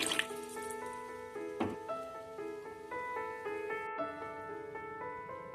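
Water poured into a pot of vegetable biryani mixture makes a quiet gurgling trickle with tonal bubbling and a few splashy drips, faint and close, without speech.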